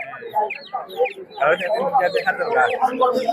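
Domestic chickens for sale at a traditional Sunday market alongside ducks: repeated close clucks and squawks, growing busier and louder halfway through, mixed with people talking.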